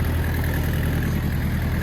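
A Mitsubishi MT 2501 Japanese compact tractor engine idles steadily, with a continuous low throbbing rumble close by and no breaks.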